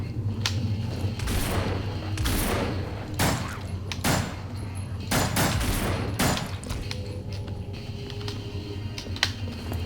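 Repeated loud gunshots from No More Room in Hell, a zombie survival shooter, ring out as sharp separate blasts every second or so over a steady, busy background, with no talk over them.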